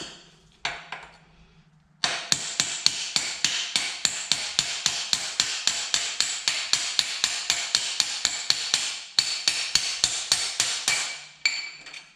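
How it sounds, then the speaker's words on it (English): Rapid metal-on-metal tapping as a socket extension drives a part out of a Kawasaki KFX 450R engine, dozens of sharp evenly spaced strikes close up, with brief pauses at the start and near the end. "So we can just give it gentle taps with the extension and she should just come right out."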